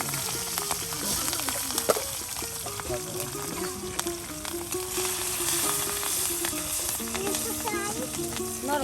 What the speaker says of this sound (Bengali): সবজি পেঁয়াজ কুচি তার সাথে সবকিছু এখন তেলে ভেজে নেওয়া হচ্ছে দেখুন